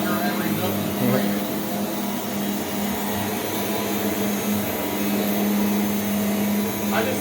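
A Rainbow D4C vacuum cleaner runs steadily through a house, producing a loud, constant whirring drone with a humming undertone and little variation, with faint voices in the background.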